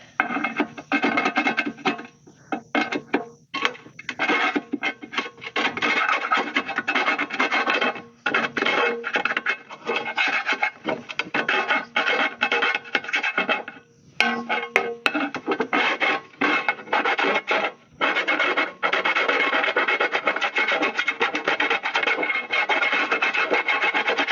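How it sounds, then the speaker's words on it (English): A file rasps chips off the back of a hole drilled in raw steel for a trailer hitch ring, with close, repeated scraping strokes and short gaps between bursts. "Just get the chips off the back side."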